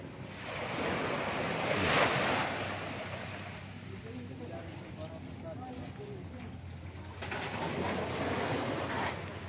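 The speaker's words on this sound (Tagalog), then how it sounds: "Ito na yung dagat." Sea waves wash ashore during a barangay officials' team-building outing, steady surf with two louder surges at the start and end, mixed with wind buffeting the microphone and faint voices in the background.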